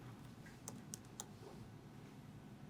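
Computer keyboard typing during an NLP workshop session, a few sharp isolated key clicks near the start over a steady low room hum, fairly faint and sparse.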